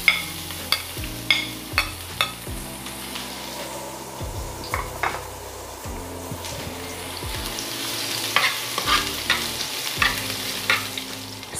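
Garlic sautéing in a pan for chicken sotanghon with ampalaya: a steady close sizzle with frequent spatula scrapes and knocks against the pan, no voices.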